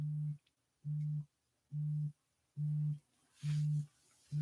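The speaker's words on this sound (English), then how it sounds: "The phone ringing." A telephone rings in five evenly spaced electronic tone bursts, each about a third of a second long, with no talk over them.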